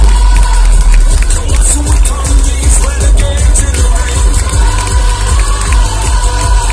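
Loud crowd cheering and applause at the Miss Pays de Creuse 2019 fashion show at a trade fair, a dense continuous roar of claps and shouts over a booming background.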